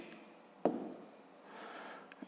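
A pen scratches across paper as a grade-five math sum is written out, one sharp stroke followed by quieter scribbling and brief taps, close and faint, with no voice.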